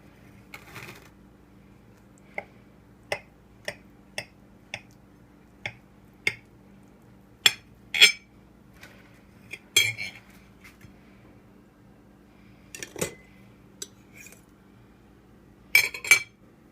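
A fork or knife clinks and scrapes against a plate while a pineapple upside-down cake is cut, producing a dozen or so sharp, separate ticks spaced irregularly over a low steady hum, with no talking.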